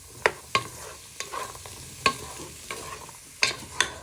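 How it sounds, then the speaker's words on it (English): A utensil stirs onion and garlic with pork steaks in a pan, giving several distinct scraping clatters at irregular intervals over a faint background sizzle, close and fairly loud, with no talking. "You're going to give that a good stir."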